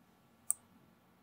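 A single sharp computer mouse click while working in Blender 3D software, near and isolated against a quiet background.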